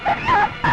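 A pet dog whimpers and yips in a few short, high, wavering cries across under a second, fairly close and clear, with no talk over it.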